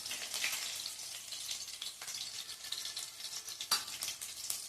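Garlic fries in oil for a dill greens stir-fry, a soft and constant sizzling hiss with small crackles and one or two faint utensil taps, quiet and steady.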